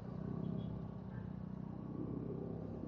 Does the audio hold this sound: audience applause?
no